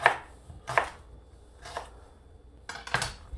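Ginger slices under a knife on a cutting board, five separate crisp chops spaced unevenly, close and distinct with quiet gaps between.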